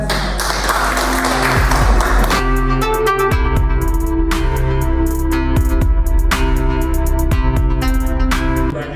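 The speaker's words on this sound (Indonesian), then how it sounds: "Mari kita beri aplaus kepada" Audience applause at a formal government training ceremony in Makassar, a loud continuous wash of clapping that holds steady for several seconds under a sustained musical tone.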